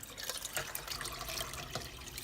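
A kitchen faucet runs into a pot while chicken stock is made, giving a soft, steady stream of splashing water with a few brighter drips, fairly quiet and close.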